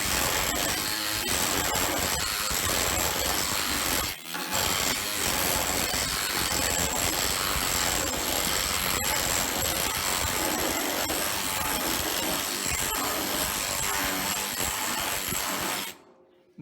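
An OX planishing hammer pounds a welded seam flat on a Lotus 11 fender, a dense, continuous mechanical hammering that runs loud and steady for about sixteen seconds with one brief break before stopping.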